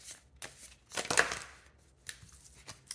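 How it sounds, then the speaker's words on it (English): Tarot cards shuffled by hand, a series of soft papery riffles and slaps in short irregular bursts, quiet and close with no talking. "I'm going to keep shuffling."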